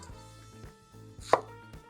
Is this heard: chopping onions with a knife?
yes